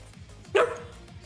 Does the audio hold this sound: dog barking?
yes